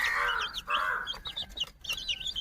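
One-month-old country chickens cluck and chirp up close, a busy run of short, rising calls and bursts with no voices over them.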